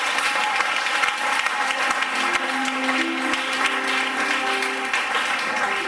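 A church congregation applauds loudly and continuously, a dense wash of many hands clapping that fills the room for several seconds, with a faint sustained tone underneath.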